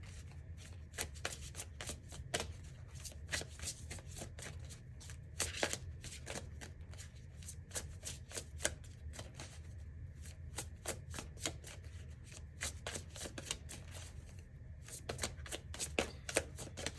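Goddess oracle cards are shuffled close by, with a continuous run of crisp riffling flutters and slaps that goes on without a break and has no speech over it.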